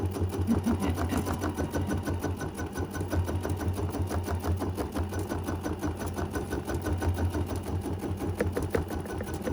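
A sewing machine stitching edge-to-edge quilting on a mini quilt held in a hoop; a loud, steady rapid needle chatter over a low motor drone that runs continuously without pause, with no talking.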